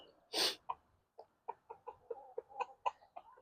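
Chickens cluck in quick, uneven bursts while squabbling over an egg. A loud squawk comes first, then a run of soft, close clucks.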